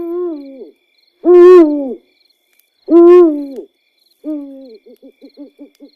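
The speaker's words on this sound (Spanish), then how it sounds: "el canto del búho resonó con fuerza desde lo alto de la cueva" Owl hooting loudly from high in a cave, several long, strong hoots followed by a run of shorter quick hoots, close and clear with nothing else around.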